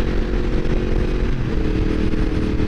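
A 2016 Yamaha MT-10 motorcycle rides along rough, poorly surfaced roads, its engine a steady, loud, close drone with rumbling wind and road noise throughout and no speech.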